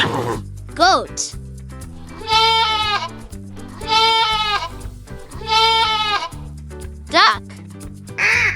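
A goat bleats three times, each call a loud, quavering cry with a pause between, over light background music and brief vocal snippets at the start and finish.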